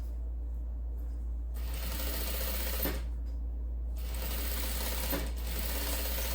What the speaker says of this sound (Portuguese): alinhar e passar uma costura bem na beiradinha.